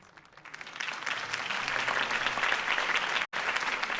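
Applause from a crowd at a mayoral campaign speech swells from a quiet start into sustained, dense clapping that holds steady, broken by one very brief dropout near the end.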